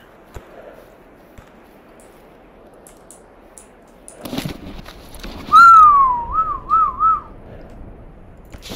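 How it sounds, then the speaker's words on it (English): A person whistles a short wavering tune, clear and fairly close, during a firefight in the game Stalker Anomaly, preceded by quieter clatter and a few sharp knocks. "Sorry for the whistling."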